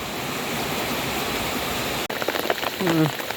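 Steady rain begins falling over a garden pond at a country home, a dense even hiss that continues beneath brief nearby voices.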